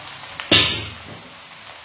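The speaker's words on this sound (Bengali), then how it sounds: "এবার আমি এর মধ্যে দিয়ে দেব কেটে রাখা ঝিঙেগুলো" Chopped ridge gourd is tipped into a pan of hot oil with browned ginger. A sudden loud burst of sizzling fades quickly over about a second into a faint hiss.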